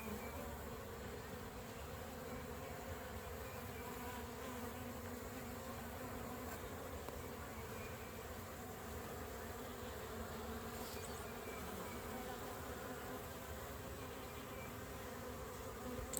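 Honeybees drone steadily in an open hive during oxalic acid treatment for varroa mites, a soft, even, continuous buzz with no voices.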